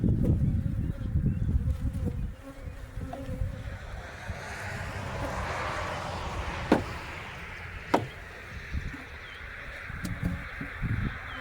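A freshly installed honey bee swarm buzzes on new wax comb, a loud, dense, continuous drone close to the microphone, with a few sharp knocks near the end.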